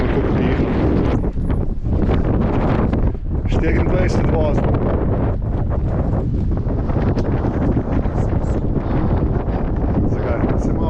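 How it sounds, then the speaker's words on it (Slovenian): Strong wind buffets the microphone on a Greek island shore at Symi during a sailing trip, a loud continuous roar with gusts throughout, while a voice speaks briefly over it. "čeprav bolj piha tale, da vidimo, koliko piha"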